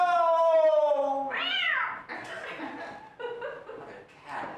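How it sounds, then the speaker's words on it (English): A mother cat gives a long drawn-out meow, close and loud, followed by a rising yowl, with chuckling and muffled voices running underneath. "Mother cat."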